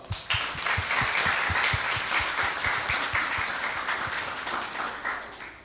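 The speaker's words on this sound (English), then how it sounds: "Yes, you do deserve a round of applause." A room of people applauding student debate presentations at a debating society competition, steady dense clapping held for several seconds alongside a regular low thumping beat, then gradually thinning out.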